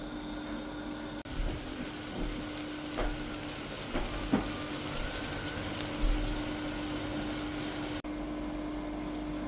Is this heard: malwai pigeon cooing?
no